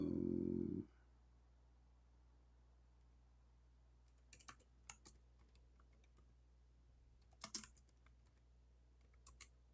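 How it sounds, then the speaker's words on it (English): Typing on a computer keyboard in sparse clusters of close keystrokes separated by quiet pauses, after a brief loud sound at the start, over a steady low hum. "I'm typing English in the Arabic."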